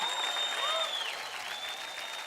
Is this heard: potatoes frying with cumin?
no